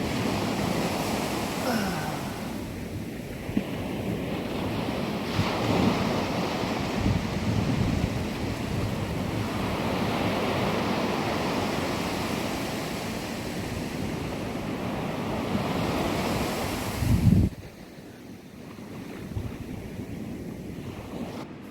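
Ocean waves wash steadily onto a beach, a continuous loud roar of surf mixed with heavy wind buffeting the microphone, ending in a sudden drop to calmer wind and water.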